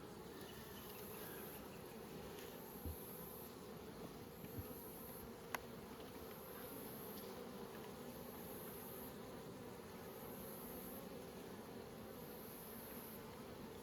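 Honeybees buzz in a steady, dense swarm around nucleus hives in warm conditions in Nymboida, the hum continuous and close throughout with no talking.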